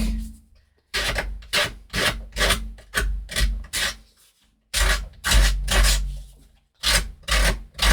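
Edges of a paper ID tag being distressed with quick, rhythmic rasping strokes in two close bursts separated by a short pause, heard up close with no talking.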